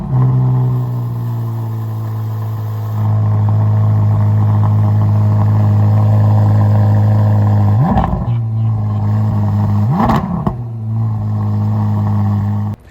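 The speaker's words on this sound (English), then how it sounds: "Let's actually listen to a quick cold start." A Dodge Demon 170 or Corvette C8 Z06 sports car engine after a cold start, holding a loud, steady high idle throughout, with two sharp revs blipped near the end before it settles back.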